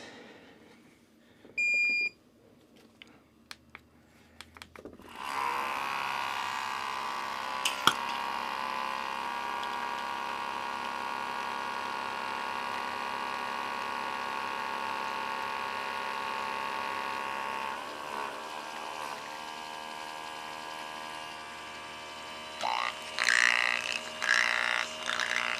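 Outin Mino and Nano portable espresso machines brewing identical Nespresso pods, a couple of beeps and then a steady electric pump hum and drone that runs for about fifteen seconds before stopping, with faint handling clicks at the end.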